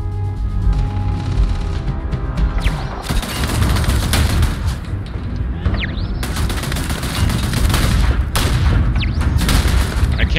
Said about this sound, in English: Who's shooting? You shooting at me through the window?